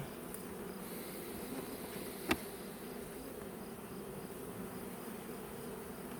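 Agitated honeybees in an open beehive give a faint, steady, even buzz throughout, with one brief sharp click partway through.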